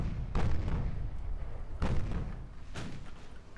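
Heavy naval guns fire from a warship in Ultimate Admiral: Dreadnoughts, three deep booming salvos spaced about a second and a half apart, each rolling off into a low rumble.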